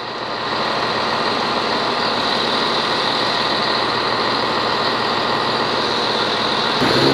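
A train pulls out of Stowmarket station on the service to Ipswich, with a loud, steady diesel engine rumble that holds evenly throughout, close by and with no voices.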